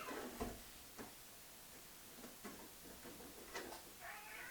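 Cats scuffling and meowing on a staircase indoors, a few short bumps and thuds with a brief meow near the end, fairly quiet and without talk.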